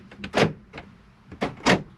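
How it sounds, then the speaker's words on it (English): Central locking on a Swift Escape 674 motorhome engaging, two pairs of quick mechanical clunks from the doors, moderately loud with a brief pause between pairs. "This locks the doors, including the habitation door, so it locks all 3."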